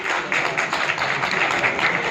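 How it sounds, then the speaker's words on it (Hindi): An audience claps steadily at an event announcing the radio programme "Ai Zindagi Gale Laga Le" with Suresh Wadkar, welcoming a guest with dense, continuous applause that stays even and fairly loud throughout. "एक बार जोरदार तालियां बजा के उसका स्वागत"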